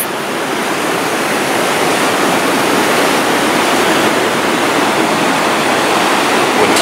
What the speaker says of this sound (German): Und hier nochmal dieser Wasserlauf